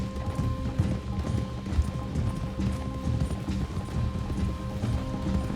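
Horses' hooves clip-clop in a steady trotting rhythm in the Red Dead Redemption 2 video game, with faint tack and mechanical clinks and a brief whinny-like tone, no talk.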